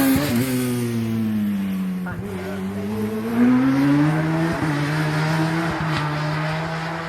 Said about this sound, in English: Speed hill climbing is one car at a time up a narrow road